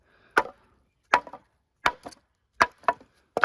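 Dry, burnt-outside firewood pieces knock together in a series of sharp, hollow wooden clunks, about seven hits in small groups, close and clear with no talk.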